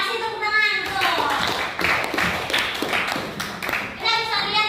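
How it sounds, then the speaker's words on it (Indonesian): A classroom of students clapping briefly during a counseling lesson, scattered hand claps mixed with children's chatter and a teacher's voice, moderately close and partly masked by talk. "Oke, kasih tepuk tangan."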